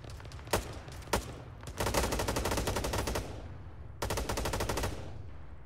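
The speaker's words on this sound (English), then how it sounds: "What are they shooting at? They're just shooting in the air." Automatic gunfire in the military shooter Arma 3, opening with two isolated loud shots and then long rapid machine-gun bursts with evenly spaced cracks, a short pause, and another sustained burst.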